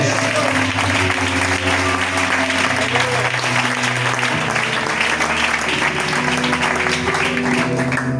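A church congregation bursts into sustained, dense applause that fills the room for the whole stretch, with steady low hum or music tones running underneath.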